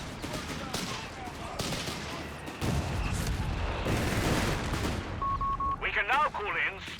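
Bombardment gunfire rolls through a Company of Heroes 3 battle, with dense, continuous bursts and booms and heavier blasts toward the end, mixed under game noise and effects.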